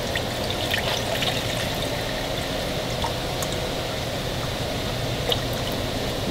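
Water is poured steadily into a measuring cup during work on a car's coolant system, making a continuous close trickling stream with no talk.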